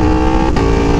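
An Aprilia motorcycle engine with a quickshifter blips during a downshift, a loud, steady, close engine roar with a brief dip in the middle.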